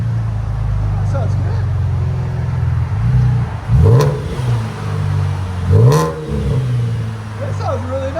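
A 2015 Chevy Camaro with a 3.6L V6 and HKS aftermarket exhaust idles with a deep rumble, then two sharp revs swell and fall back; voices are faintly present.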